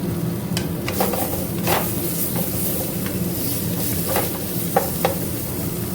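Chopped tomatoes hit hot oil in a frying pan with a steady, close sizzle, joined by a few sharp scraping stirs while cooking khichuri.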